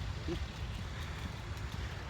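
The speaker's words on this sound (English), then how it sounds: "It's very windy" Steady wind rumble buffeting the microphone outdoors at the New York World's Fair, a constant low roar throughout with no clear voices.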